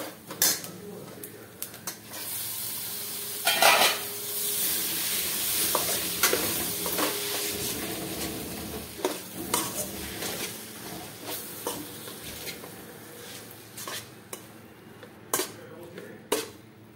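Fried onion being stirred with chowmein powder in a pan, with repeated scraping and clattering of a utensil against metal over a soft background sizzle, the knocks coming in irregular bursts up close.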